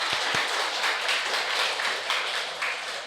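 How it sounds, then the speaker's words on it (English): A podcast audience gives a round of applause in a dense, continuous clatter of clapping hands. A few sharper taps come near the start, and no one talks. "It's a big round of applause too."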